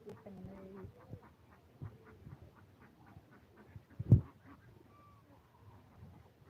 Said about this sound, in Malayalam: ലൈനായിട്ട് താറാവ് പോകുന്നു താറാവ്